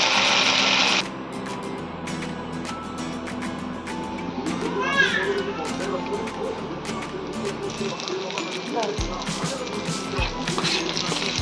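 Fried onions with ginger-garlic paste stirred in a pan for a spicy pabda fish curry: a steady sizzle with scraping spoon strokes runs throughout, under a person talking.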